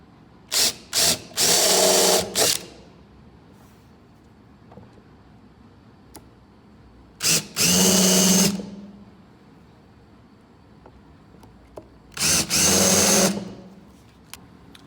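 A rechargeable drill bores a hole in short, loud bursts of whirring, with a few quick trigger taps followed by longer runs. Quiet gaps fall between the bursts.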